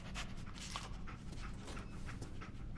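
Dogmeat, the German shepherd companion in Fallout 4, pants in quick rhythmic breaths over a steady low game ambience, close and continuous with faint whimpers.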